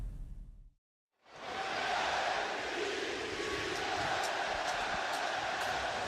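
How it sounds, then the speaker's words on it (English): A stadium crowd roars at MetLife Stadium during an NFL game between the Steelers and Jets, a dense sustained wash of cheering that swells in after a brief silence and holds steady and loud. "The crowd here at MetLife Stadium fired up"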